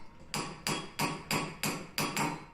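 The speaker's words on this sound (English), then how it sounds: "The 101 beaker starts as a flat circle of silver and is gradually raised by repeated hammering over different shaped formers." A flat circle of silver being raised into a beaker by repeated hammering over shaped formers: six sharp, evenly spaced metallic blows ringing out alone in a steady rhythm, close and clear.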